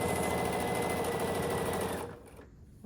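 Sewing machine stitching quilt rows together for a quilt top, one close continuous buzzing run that stops near the end, leaving a quiet tail.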